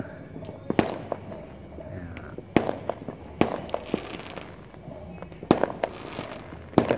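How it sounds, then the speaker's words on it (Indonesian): Fireworks bursting over a city on New Year's Eve, scattered distant bangs and pops at irregular intervals over a low crowd-and-street murmur, with faint crackling between the reports. "Tampak kembang api bermunculan."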